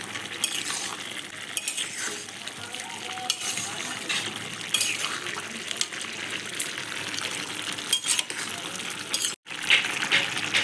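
Banana flower curry (mochar ghonto) is stirred in a pan, a continuous soft scraping and clinking of a spoon against metal over a faint sizzle, with one brief break near the end.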